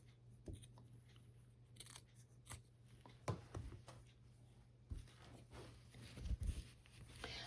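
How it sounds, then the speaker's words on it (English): Quiet, sporadic snips of scissors clipping sewing threads, with sharp clicks scattered irregularly over a low steady hum. "Clip my threads."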